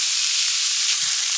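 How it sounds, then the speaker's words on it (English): Sausage cooking in a hot pan gives a steady, close broadband sizzle that runs unbroken and fairly loud throughout, with a brief low stir or clunk near the end and no voices. "And we are basically going to make sausage. So let that cook."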